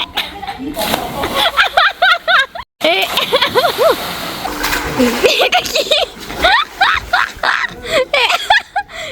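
Splashing in a resort swimming pool as a person swims underwater and surfaces, irregular bursts of splatter close by, mostly under lively talk and laughter from people at the pool.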